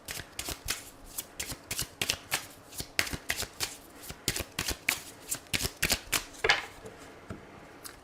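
Oracle and tarot cards are shuffled by hand in a quick run of crisp riffling taps and slaps, close and steady for several seconds with no talking.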